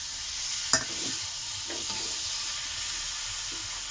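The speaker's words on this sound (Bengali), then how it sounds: "এর সঙ্গে আমি একটু দেবো ধনে পাতা টমাটো, একসঙ্গে কষাবো" Spices, coriander leaves and tomato fry together in a pan with a steady, even sizzle. One sharp clink of a utensil stands out early, then only a couple of faint scrapes. No one speaks.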